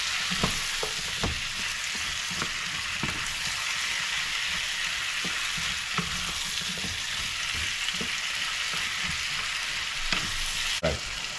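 Pumpkin and shrimp stir-fried in a pan, with a steady loud sizzle running throughout and repeated scraping knocks of a utensil stirring the food at an uneven rhythm, close up and with no voices.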